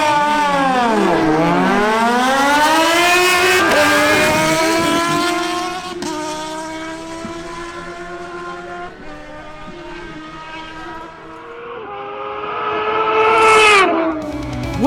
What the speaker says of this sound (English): Next up is a duel between Harold Rodolo's Kawasaki ZH2 and Wilson Penzo's Suzuki GSX-R1000.